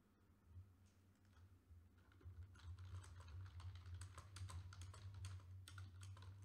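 Quiet, rapid keyboard typing with irregular clicking keystrokes over a low steady hum, no voices.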